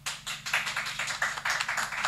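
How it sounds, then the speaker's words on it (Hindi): An audience claps at a Pakistani political press conference, a close and steady patter of many hands that continues throughout with no talk over it. "प्लीज तालियां ना बजाएं प्लीज"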